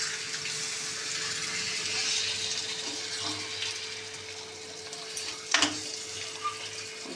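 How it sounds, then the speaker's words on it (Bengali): Water pours into a pan of prawn curry cooking in masala, a steady close rushing splash, ending in a sharper splash and a few drips. "আমি এবার জল দিয়ে দেবো"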